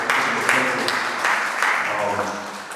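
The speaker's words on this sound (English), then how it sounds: "give Wanda a round of applause for doing it" An audience gives a round of applause for Wanda, a guest at a community talk on recidivism and hyper-incarceration, with steady moderate clapping mixed with voices talking over it.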